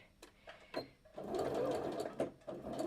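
Sewing machine stitching a shirt, running in short bursts and then a longer steady whirring run, close and clear, with brief pauses between bursts.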